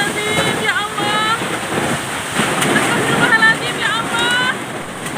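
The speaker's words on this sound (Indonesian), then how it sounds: "Inilah detik-detik angin kencang disertai hujan deras yang terjadi Senin kemarin" Strong wind with heavy rain during a destructive storm that brought down a house, roaring as a loud, steady broadband wash throughout, with a person's frightened exclamations and prayers heard over it.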